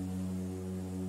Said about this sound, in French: ça s'appelle des cornes de brume